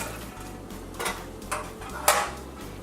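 A wire whisk stirs milk in a pot on a stovetop, producing a few soft, scattered metallic clinks and scrapes against the pot over a quiet kitchen background.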